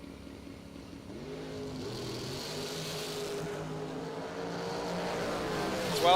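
Drag racing cars roar from a distance as they launch down the strip at a Fuel Tech $50K event, engine tones climbing steadily in pitch and growing louder toward a closing surge.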